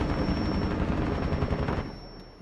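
Automatic gunfire in Rainbow Six Siege, a rapid continuous burst that lasts about two seconds and then cuts off sharply, loud and close.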